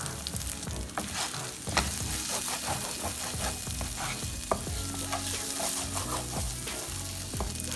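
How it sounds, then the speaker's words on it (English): Samosa filling with spices and mixed seasoning sizzles in a frying pan while a utensil stirs it, steady close frying hiss punctuated by repeated scraping and tapping strokes against the pan, with no talking. "I'm going to stir everything up."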